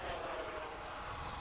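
An FMS 70mm F/A-18 electric ducted-fan RC jet doing a touch and go with gear down, a steady, fairly faint rushing whine holding level throughout.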